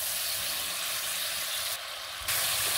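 Sauce, hot sauce and spices frying in a pan for chicken noodles, a steady bright sizzle and hiss throughout that swells briefly near the end.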